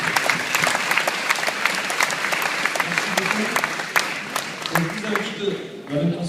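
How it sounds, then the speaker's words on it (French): An audience at a class promotion ceremony applauds steadily and densely for the whole stretch, with a few voices rising near the end. "alors il faut l'applaudir"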